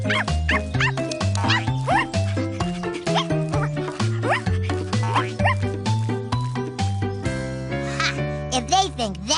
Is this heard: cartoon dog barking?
yes